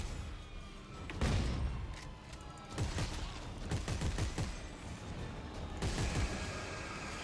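Rapid bursts of gunfire from headshots in the sci-fi horror video game Dead Space 3, loud repeated shots in clusters with thumping impacts over a dense game background.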